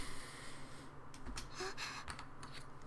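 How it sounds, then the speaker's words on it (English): A video game character gasps while hidden under a bed, a short breathy intake heard against steady game background music. "Aoi gasps audibly from under the bed."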